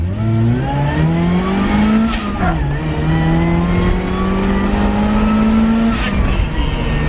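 Supercharged off-road Mazda Miata accelerating hard on pavement toward 60 mph, a loud close engine rising through the revs with a brief dip at a gear change before climbing again, heard alone.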